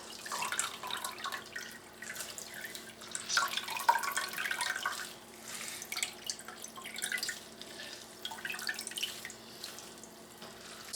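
Chokecherry juice drips and trickles as the berries are gently pressed by hand, giving soft, close wet patters and small splashes that come in loose bursts with brief quieter gaps.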